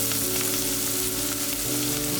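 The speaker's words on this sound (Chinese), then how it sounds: "锅里倒入一些油，油热以后，先倒入洋葱和蒜末" Chopped onion and minced garlic fry in hot oil with a steady, dense sizzle that holds loud and continuous throughout, with soft background music.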